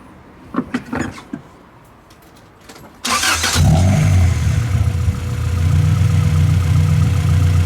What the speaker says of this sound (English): Yeah, it's idling fine now.